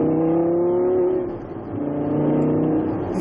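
A Lamborghini LP570-4 Performante supercar engine rumbles close and loud, holding a steady low tone, dipping briefly mid-clip and then swelling back up.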